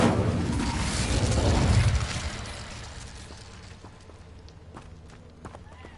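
Casting the Incendio fire spell in a Hogwarts video game sets off a loud, roaring burst of flame that lasts about two seconds, then dies down to a softer rumble with faint scattered clicks.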